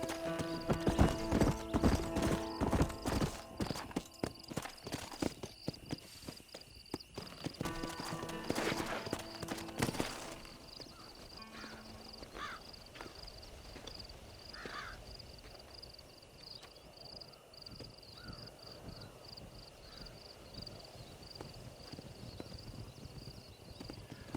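Horse hooves galloping in Red Dead Redemption, a fast, loud clip-clop rhythm for about ten seconds that then fades to quieter ambience with distant crow caws and a brief whinny.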